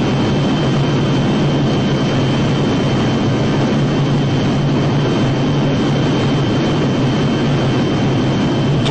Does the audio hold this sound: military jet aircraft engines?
yes